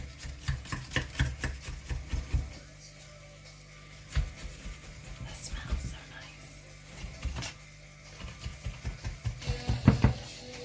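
A sharp, narrow metal spatula scraping around the edges of a Detroit-style pizza tray to loosen the pie: rhythmic close rasps and scrapes in short bursts, with pauses between strokes.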